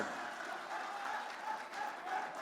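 Audience applause at a prize announcement for a healthy salad challenge finale, steady faint clapping throughout with no pauses.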